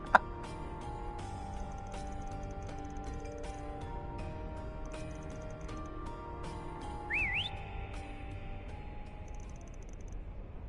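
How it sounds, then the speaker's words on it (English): Short high whistles from the video game Trails Through Daybreak, repeated in brief bursts over a soft musical background, with one rising and falling whistle in the middle. "Whistles. It usually means monsters."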